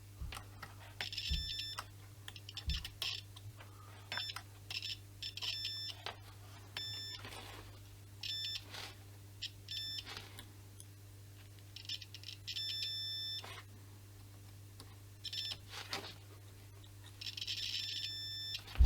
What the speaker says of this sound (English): continuity mode means we put these together and we get a beep